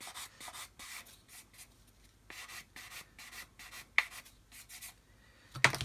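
A hard sanding stick rubs a glued joint on a model aircraft gunner's head, in short repeated scratchy strokes with brief pauses, close and fairly quiet, ending with a couple of sharper knocks.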